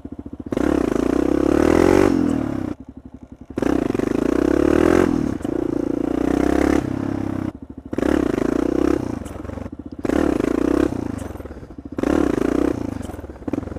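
Motorcycle being ridden with a mid-pitched engine droning in repeated bursts a few seconds long, cut by brief gaps as the throttle closes or gears shift, loud and close throughout.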